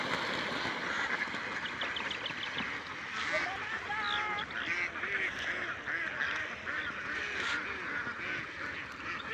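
A large flock of domestic ducks on a duck farm in a field quacks and honks in a continuous, busy chorus at close range, with occasional faint voices.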